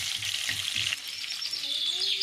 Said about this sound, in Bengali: আলুটা আগে একটু ভাজা করে নিচ্ছি, আর এক সাইডে আমি মাংসের জন্য আলু ভাজা করছি।